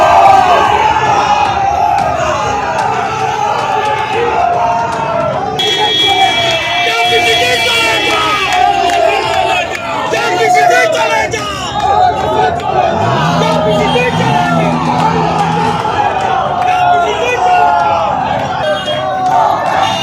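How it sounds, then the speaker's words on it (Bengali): A large, loud political crowd outside Barasat College shouts rival party slogans, "chor chor", at Suvendu Adhikari's passing convoy, with sustained rhythmic chanting and babble, vehicle horns cutting through, and a reporter talking over the din. "শুভেন্দু অধিকারীর কনভয় যখন যাচ্ছে তখন তার কনভয় উদ্দেশ্য করে চোর চোর স্লোগান একদিকে তৃণমূলের, অন্যদিকে পাল্টা স্লোগান বিজেপির।"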